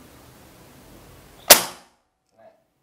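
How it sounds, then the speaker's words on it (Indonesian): A single sharp, loud crack of a PCP air rifle shot at a 30-metre target rings out after quiet background, decaying quickly, followed by a faint distant tick. "kita coba tembakan pertama di jarak 30 untuk sasarannya Medsil."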